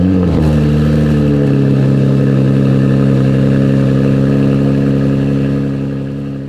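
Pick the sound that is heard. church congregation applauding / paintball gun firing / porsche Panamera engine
porsche Panamera engine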